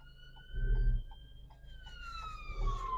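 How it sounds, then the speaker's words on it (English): An ambulance siren wails along a city road in Hull, its rising and falling tones sliding as it passes, heard from inside a car over low engine rumble. "Now we can see there's an ambulance coming up the road"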